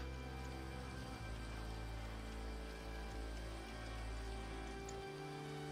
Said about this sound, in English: they've got all the rain going on too